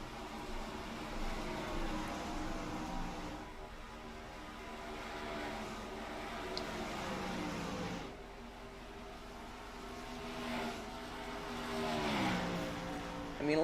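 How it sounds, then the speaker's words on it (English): Faint, distant 410 sprint cars race around a dirt track at a feature race, engine notes rising and falling in sweeping passes under a low background hiss. "at least you can listen to these 410 sprint cars. They sound pretty nice."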